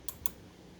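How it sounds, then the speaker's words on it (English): Two quick, faint clicks about a sixth of a second apart come from small micro switches on a GE microwave, light and dry against a quiet background. "3 little micro switches. Clicky clicky. Clicky clicky."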